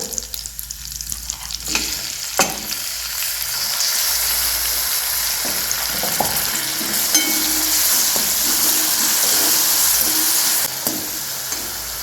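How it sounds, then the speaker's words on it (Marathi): Finely chopped tomatoes with green chilli sauté in a hot pan, a quiet clatter at first that swells into a loud, continuous close sizzle and crackle, with a scrape or two along the way. "टोमॅटोला 2 मिनिटं परतून घेऊया"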